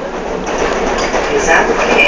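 A Super Via commuter train, units 3014/3017, rolls between stations in suburban Rio, heard from on board as a steady, loud rumble and hiss of wheels and carriage. A voice is faintly present over the noise.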